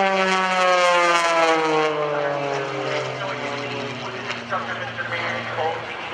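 An Extra 300S aerobatic propeller plane flies at a naval air station airshow, its engine a loud, harmonic drone that slowly falls in pitch as it passes and recedes, with an announcer's voice partly over it.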